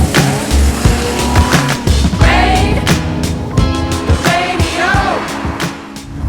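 A Porsche Boxster with a flat-six engine and PDK gearbox under way on the road, its engine note climbing and falling through quick shifts, loud and close, with tire noise throughout.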